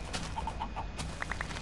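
Minecraft chickens cluck softly in a few short, quiet, evenly spaced bursts over a faint background hum.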